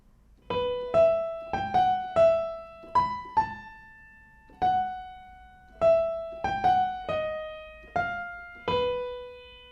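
A slow piano melody from Harry Potter in single notes and short chords, each struck clearly and left to ring and fade, with brief pauses between phrases.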